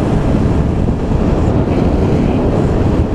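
Strong wind buffeting a microphone during a drive on a mostly straight, slightly hilly route, a loud, constant roar with no break.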